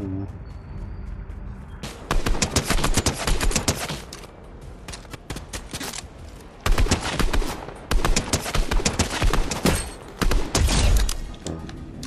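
Rapid bursts of automatic gunfire from the video game Fortnite, Chapter 3 Season 2 Zero Build mode, crackle loudly in repeated volleys across the whole stretch, with short lulls between them.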